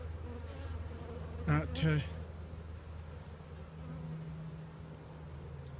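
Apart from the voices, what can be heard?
honeybees buzzing in an open beehive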